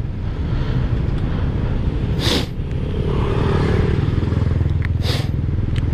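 Motorcycles fill busy morning road traffic with a dense, continuous engine drone close by, with a couple of louder whooshing passes and clattering rattles over the constant rumble, and no talk.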